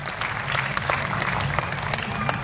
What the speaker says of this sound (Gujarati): એને પણ આપણે તાળીઓથી ગડગડાવતી